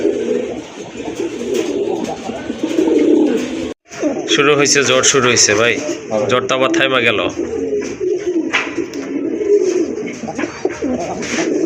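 Big-size pigeons at a pigeon sale coo in a steady low murmur through most of the stretch, nearby and moderately loud, with someone talking over them.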